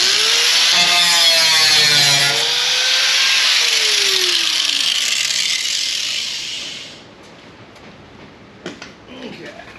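A power tool whines loudly and steadily as it cuts an opening for a Firebird fuel tank, its pitch bending as the blade works through the material, then stopping abruptly, followed by a few light clunks.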